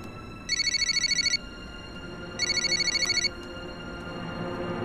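A telephone rings in two trilling bursts, each about a second long and separated by a short pause, heard close over a steady low background hum.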